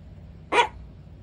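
A single sharp bark from a small Chihuahua on a terrace, short and fairly close, standing alone over a faint low background hum.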